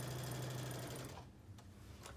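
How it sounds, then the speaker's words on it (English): A sewing machine with a worn needle runs a quilting seam, a loud close mechanical whir with a low thumping rhythm that cuts off partway through, leaving a few faint clicks and handling noises. "when your needle starts to make that kind of funk, funk, funk sound, it's time to replace it"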